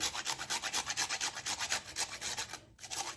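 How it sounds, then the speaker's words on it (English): Whole nutmeg is grated by hand for banana bread, giving quick, rhythmic rasping strokes, about a dozen close scrapes in steady succession with a brief pause near the end. "I buy the actual whole nutmegs and then just grate it myself."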